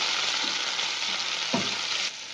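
Onions fry with green chilli and tomato in a pan for an egg roll, giving a continuous close, steady sizzle with a couple of faint stirring scrapes and no talking.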